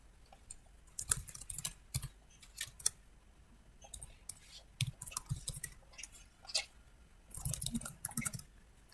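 Computer keyboard typing while filling in a web registration form, as irregular bursts of close, light clicking keystrokes with short pauses between runs.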